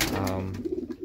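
Pigeons in a loft give soft, low, throaty coos, a rolling murmur near the listener that ends in a few short, pulsing coos over about a second.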